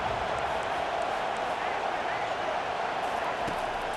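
A home crowd roars in the EA Sports College Football 25 video game, a dense, steady wall of stadium cheering and noise that holds loud and continuous throughout.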